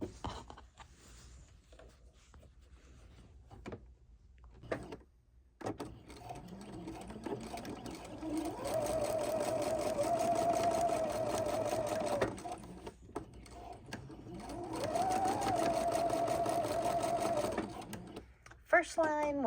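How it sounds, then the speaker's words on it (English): A sewing machine stitches a lined tote bag with gussets in two steady runs of fast, even whirring, each a few seconds long, separated by quieter handling noise, with a person talking softly in between. "All right, now up to sew it."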